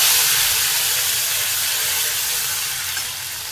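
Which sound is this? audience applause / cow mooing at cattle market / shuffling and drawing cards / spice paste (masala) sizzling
spice paste (masala) sizzling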